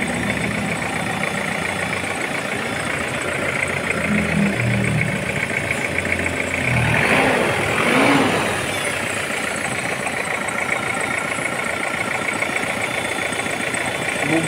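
Diesel engine of an Isuzu Trooper 4x4 with an intercooled turbo, idling steadily and close by, with one brief rev partway through, running alone without speech.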